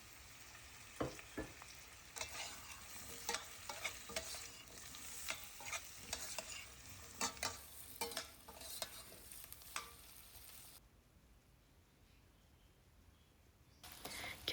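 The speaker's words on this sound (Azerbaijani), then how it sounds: "Kartofla da biraz qovururam." Potatoes being fried with onion and carrot in a pan for a soup, a steady sizzle broken by repeated scraping stirs; the frying quiets for a few seconds near the end before picking up again.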